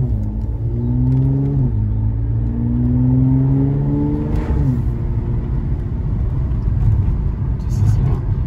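Stock-exhaust Mercedes C43 AMG engine revving: a steady mid-pitched rumble rising in a sustained rev, dropping back near the middle, then idling on with a faint, muted tone and little exhaust note.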